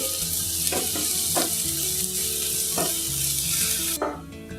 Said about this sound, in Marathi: आता हांव हितून एक टोमॅटो बारीक कट करून घेतला तो घालते असा। तो बी बरो भाजून घेवचो, फ्राय करून घेवचो।